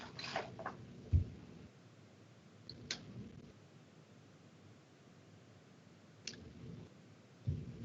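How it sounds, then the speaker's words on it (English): A computer mouse gives a few sparse, faint clicks spaced several seconds apart while a customer record is edited in business software, in a quiet room with low background hiss. "I'm just right-clicking here in the phone number,"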